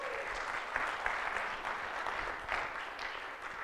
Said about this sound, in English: I wasn't asking for applause, but I'll take it.